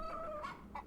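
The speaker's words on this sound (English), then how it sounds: "What are we doing with this giant random rooster now, then?" A giant rooster in the video game Yes, Your Grace gives a short, faint clucking call, a couple of quick fowl sounds with nothing else over them.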